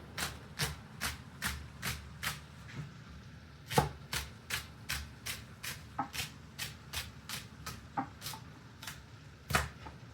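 A knife chops green onions on a cheap cutting board in close, sharp, evenly spaced strokes, about two per second, with no talking.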